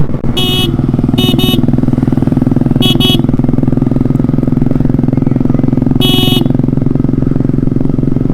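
A motorcycle engine drones loudly and steadily during a street bike race, with several short bursts of a high horn beeping over it, close and without talk.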